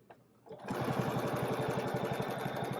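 A sewing machine starts up after a quiet moment and stitches quickly in a steady, even rhythm while quilting a feather, close and fairly faint.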